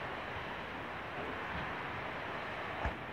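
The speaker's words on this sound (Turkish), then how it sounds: "Fırtınayla beraber yağmur yağmaya başladı." Steady broadband hiss of heavy rain pouring down during a village storm in rural Turkey, loud and unbroken, with a brief low thump near the end and no voices.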